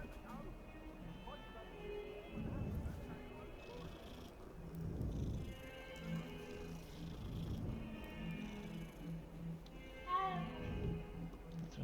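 A cat in the Hogwarts Legacy video game gives soft meows and purring sounds, with one clearer meow near the end, set low in the mix among ambient game sounds.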